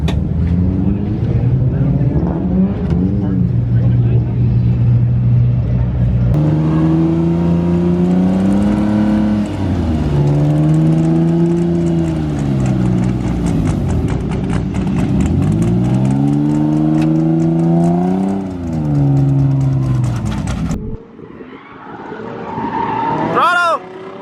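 Drift car sliding in circles, loud engine revving up and down in long sweeping waves with tire squeal, sustained and close, ending with a brief drop and scattered noise.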